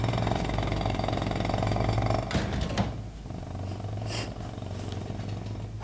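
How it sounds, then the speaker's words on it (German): Loud mechanical hammering rattles in a rapid continuous burst, then gives way to lower rumbling machinery and scattered knocks, like a construction site nearby. "Das ist nur die Baustelle."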